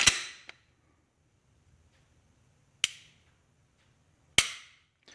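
A Glock pistol fitted with an aftermarket trigger kit gives three sharp, close dry-fire clicks, spaced about two seconds apart, each short and crisp with a brief reset tick after the first, in near silence.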